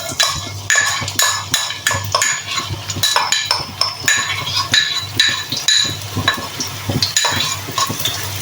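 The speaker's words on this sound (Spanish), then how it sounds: "Sofreímos bien la cebollita" Chopped onion and garlic sautéing in a pan sizzle steadily up close, broken by frequent rhythmic scrapes and metallic clinks of a utensil stirring against the pan throughout.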